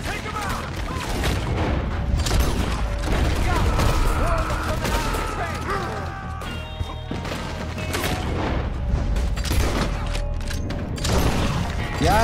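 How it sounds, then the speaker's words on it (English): Gunfire rattles throughout a chaotic shootout in Red Dead Redemption 2, with a Gatling gun among the weapons, along with booms and crashes. The loud firing runs continuously over the whole stretch. "Oh, they got a fucking Gatling gun too?"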